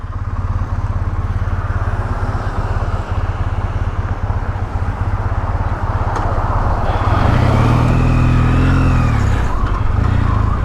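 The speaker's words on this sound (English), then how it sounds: "Was that a motorcycle or a scooter or something?" A motorcycle or scooter passes on an Amsterdam street, its engine note swelling loud and close over constant wind and traffic roar heard from a moving motorcycle.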